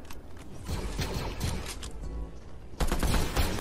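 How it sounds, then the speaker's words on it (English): Fireworks in the video game Fortnite, a dense, crackling stream of rapid pops and bursts that runs continuously and swells louder toward the end. "is that basically just dirty fireworks, bro?"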